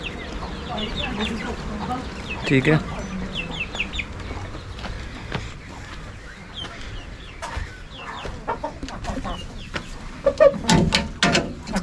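Aseel hens and a rooster cluck and squawk close by in bursts, with scattered sharp calls and rustling, while someone speaks briefly.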